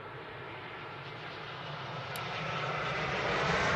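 An airplane arriving at Manchester Airport, its engine roar a broad steady rumble that grows gradually louder as it approaches.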